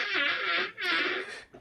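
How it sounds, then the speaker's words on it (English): A cartoonish fart from a cooking show, drawn out and strained with a wavering, squealing tone, in two long bursts with a short dip between, loud and close with no talk. "His farts just seem like they literally sound like his ass is in pain."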